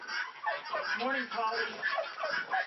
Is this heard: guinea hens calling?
yes